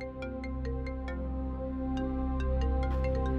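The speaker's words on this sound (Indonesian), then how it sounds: "Yasmin, ini handphone kamu bunyi terus." Mobile phone ringing indoors in a home, a repeating electronic ringtone melody with steady pulses playing continuously, moderately loud and without speech.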